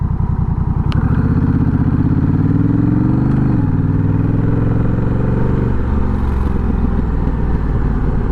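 A Honda Rebel 1100 motorcycle fitted with a Coffman's exhaust rumbles loud and close, blipping up in revs, shifting pitch, then settling back to a deep steady idle, with no voices.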